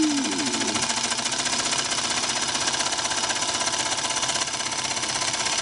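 A Singer 221 Featherweight sewing machine stitches in a fast, steady mechanical chatter, close and loud and continuing evenly throughout with no voices.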